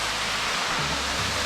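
A small waterfall at the end of the El Questro Gorge walk gives a close, steady rushing roar of falling water, even and unbroken for a brief moment with no talking.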